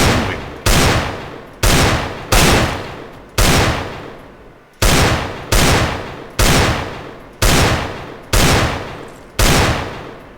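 Gunshots ring out from flick shooting at bots on the Aim Botz training map in a video game, about a dozen loud, sharp reports evenly spaced, each with a decaying tail.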